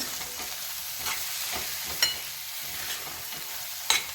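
A spoon stirs wheat flour sheera with sugar in a hot pan, giving a continuous soft sizzle with rhythmic scraping strokes and a couple of sharper taps against the pan.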